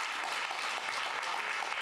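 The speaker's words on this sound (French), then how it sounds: "Sous vos applaudissements, j'aime bien cette mise en scène." Brief applause from an audience at a panel discussion as a speaker is called up, a soft, steady, distant-sounding wash of clapping with no talk over it.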